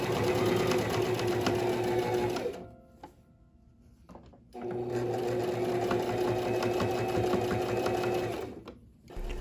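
A sewing machine running a sleeve seam as a French seam on a shirt, two long steady whirring runs of stitching with a short pause of fabric handling between, close and loud.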